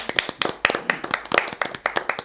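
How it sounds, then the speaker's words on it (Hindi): Audience at a poets' gathering on stage clapping: close, sharp handclaps in a quick uneven rhythm from a small group, loud and alone without talk. "कम से कम उनके लिए तालियां तो बजा दीजिए"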